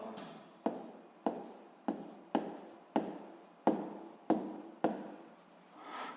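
A pen or chalk writes out a school physics solution, a gamma-volume calculation, as a steady series of quiet, close strokes and taps at an even rhythm, each fading briefly before the next, with no voices.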